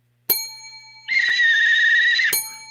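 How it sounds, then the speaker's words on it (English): A single bright bell ding rings out during an improv comedy game, sustained for about a second between sharp clacks, loud and close. "There were a lot of bells."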